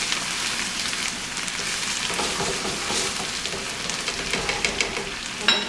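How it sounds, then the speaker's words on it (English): A side dish being stirred in a heavy pan on the stove, giving a steady close wet sizzle and crackle with soft scraping throughout, no voices. "What we want to do is to stir this up a little bit."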